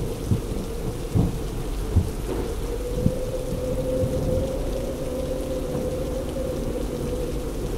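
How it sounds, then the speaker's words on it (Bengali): A thunderstorm rumbles over a steady roar of heavy rain, with several low thunder cracks early on before it settles into a continuous downpour, loud and enveloping, no voices. "আর চলছে মেঘের গর্জন।"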